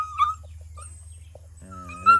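Dogs at a farm that breeds Alsatians and German Shepherds for sale give a few short whimpers and yips at moderate distance, with a louder bark-like cry at the end over a steady low hum.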